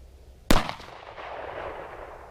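A single sharp, loud gunshot from a 5.7 caliber firearm fired close by during chronograph velocity testing, with a short ringing decay afterward and no talking.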